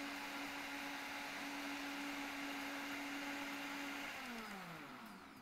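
An electric blender whirs steadily while mixing lemon yogurt cake batter, a loud close motor drone that holds, then winds down in pitch as it switches off near the end.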